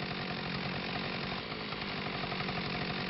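A chainsaw runs continuously in a steady, dense engine drone with a buzzing edge, fairly close and alone, in an agricultural work setting.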